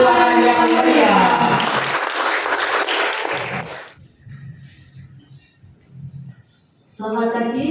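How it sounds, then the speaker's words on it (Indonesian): Brief burst of audience applause at a school event in Indonesia, loud at first and then thinning out, followed by a quiet gap with faint sounds before a voice starts speaking. "Beri tepukan yang meriah."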